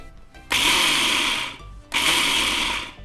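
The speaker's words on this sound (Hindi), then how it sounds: "आप कोई भी चावल का इस्तेमाल कर सकते हो, क्योंकि हमें चावल को मिक्सर में ग्राइंड करना है।" A kitchen mixer grinder coarsely grinding raw rice for phirni, two loud whirring bursts of about a second each with a short pause between, the blades rattling the grains.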